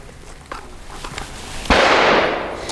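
Grand Power P1 Ultra pistol firing PPU subsonic ammunition: a few faint clicks and taps lead into a single sharp, close shot that rings out and fades slowly.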